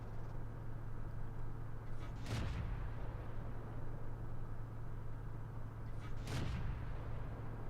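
Two heavy cannon shots from tanks in World of Tanks, one around the middle and one near the end, each a sharp boom ringing out over a steady engine hum.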